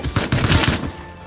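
Rapid gunfire in Rust, a quick burst of several sharp close shots in fast succession, loud and with no talk.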